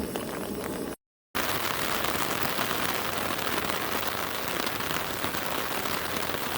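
Steady, dense rain pattering on a surface outdoors at a paramotor training camp, loud and continuous, briefly cut to silence near the start before resuming.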